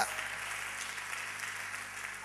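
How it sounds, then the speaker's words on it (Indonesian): A church congregation applauds in worship, a soft, steady wash of clapping heard from some distance, with a faint low hum underneath. "Yang mau berikan tepuk tangan bagi Allah kita"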